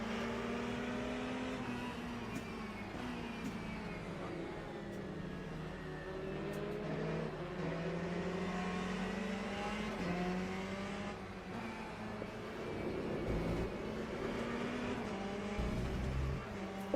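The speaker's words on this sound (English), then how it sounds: "Now I'm letting lap cars go around me because I don't want to ruin their race." Race cars passing on the Spa circuit in the Le Mans Ultimate sim racing game during an online GTE race, a steady dense engine drone with rising and falling pitch as cars go by, continuous throughout with no talk.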